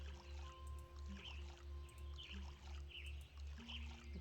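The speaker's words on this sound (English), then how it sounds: "Let's water everything." Plants being watered in the game Witchy Life Story, soft repeated pouring splashes recurring evenly about every half second over a looping background tune with chirping birds, faint and without talk.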